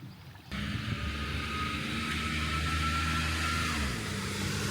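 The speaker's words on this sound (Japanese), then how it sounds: "軽自動車の音すら癒しだな。" A kei car passes along a quiet village street on Zamami Island, Okinawa, its small engine a steady close drone that holds for several seconds before easing away.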